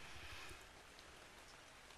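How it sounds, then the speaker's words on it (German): Rain falls steadily in the survival game ARK: Survival Evolved, a dense, even hiss that runs without a break for the whole stretch, quiet and with no talk over it. "Guck mal in den Himmel, das sieht total genial aus mit dem Regen."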